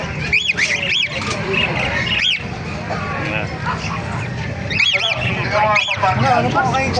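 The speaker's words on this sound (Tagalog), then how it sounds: "Ito, may nakita tayo mga kakaibang ibon." Exotic birds at a market in Bocaue calling out amid crowd noise, with several sharp chirps and squawks rising above steady chatter and talking.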